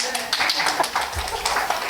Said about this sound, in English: You can applaud anytime you want.